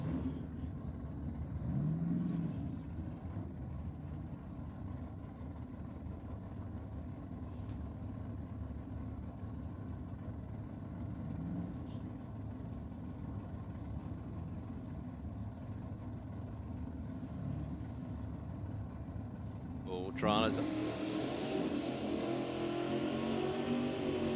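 A cranky Torana drag racing car idles at a Sydney drag strip with a rough, low, steady engine rumble, then revs up sharply near the end.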